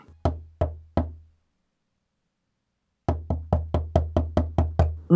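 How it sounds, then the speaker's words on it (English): Sharp knocks on a door in a stage drama: three spaced raps, a pause, then a faster run of about eight insistent pounding knocks, close and loud in an otherwise silent room. "Of a sudden, there came a knock upon the door."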